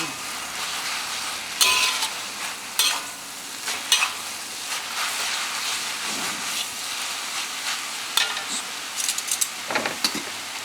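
Instant noodles, Nongshim Farmer's Heart kimchi, being stirred in a pot, with close wet slurping and scraping strokes in irregular bursts over a steady sizzling, steamy hiss.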